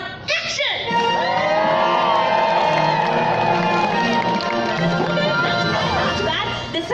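Studio audience on one side of a Hollywood soundstage erupting into loud, sustained cheering, shouting and whooping for nearly seven seconds after a brief quiet start, dense and close with no single voice standing out.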